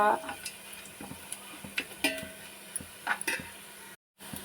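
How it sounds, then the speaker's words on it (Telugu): Onion fried in oil with cloves, cinnamon and shahi jeera for chicken biryani, a soft sizzle broken by sharp clinks and scrapes of a spoon in the pot, with a brief gap near the end. "ఆనియన్ చెక్క లవంగాలు దాల్చిన చెక్క సాజీరా ఇంకా"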